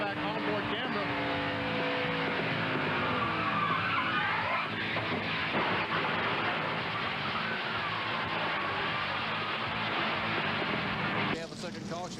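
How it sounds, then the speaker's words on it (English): Jason Jarrett's Rayovac Pontiac NASCAR race car slams hard into the outside wall at turn 2, with dense, loud roaring and scraping throughout and an abrupt shift near the end. Commentary voices run underneath. "Pretty heavy impact into the outside wall on turn 2."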